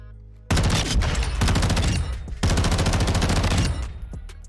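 Rapid automatic assault rifle fire in Modern Warfare 2, loud sustained bursts close up with a brief pause midway, then fading shots and game effects at the end.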